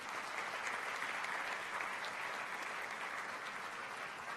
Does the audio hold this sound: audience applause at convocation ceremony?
yes